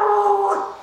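A child imitates a dog bark with the voice: a single drawn-out, tonal woof-like cry, close and fairly loud, fading slightly at the end.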